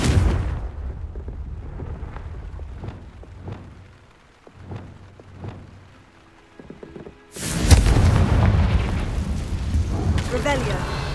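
Fiery spell explosions from the Confringo curse in Hogwarts Legacy, a series of booming blasts with a loud rumbling burst late on, with a voice speaking over the game sounds.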